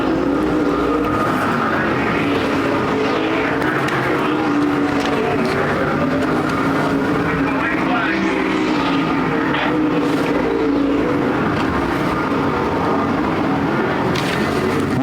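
Super stock race cars at Perris Auto Speedway during a main event, a continuous dense roar of engines circling and passing at a distance, heard loud and unbroken.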